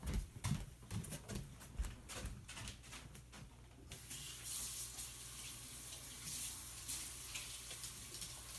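Tap water runs over marbled paper to rinse off cornstarch, first as scattered splashes and handling noises, then as a steady close hiss of flowing water.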